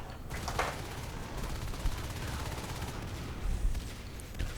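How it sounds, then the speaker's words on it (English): Dense, continuous gunfire from the Natural Selection 2 video game, including marine shotguns, rattling without pause as layered bursts and blasts under a constant din of combat noise. "They've got shotguns now that I forgot that I researched."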